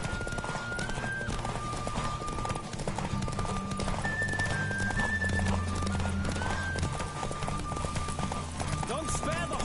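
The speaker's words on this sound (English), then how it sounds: "Don't spare the horse!" A horse gallops in The Witcher 3 video game, a steady clip-clop of hooves under game music and tonal sounds, with faint talking mixed in.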